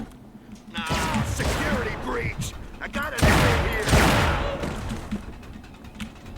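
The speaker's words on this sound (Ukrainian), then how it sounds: "Постріли." Bursts of rapid gunfire in the video game The Chronicles of Riddick: Escape from Butcher Bay crackle and boom in volleys, with a person talking over the shooting.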